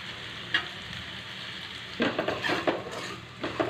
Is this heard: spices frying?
yes